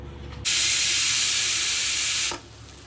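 A pressure cooker cooking Khandeshi masala khichdi releases a loud, continuous hiss of escaping steam for about two seconds, starting abruptly and cutting off sharply.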